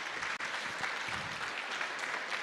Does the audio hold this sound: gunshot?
no